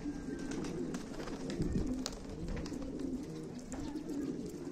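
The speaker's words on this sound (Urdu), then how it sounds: "یہ سارے ماشاء اللہ رنگین کبوتر ہیں" Fancy colored pigeons coo steadily, a soft low rumbling chorus of several birds close by with occasional wing flutters and faint chirps, continuous throughout with no talking.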